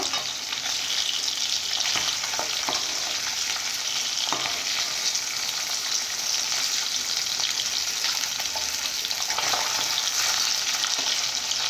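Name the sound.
fish frying in a pan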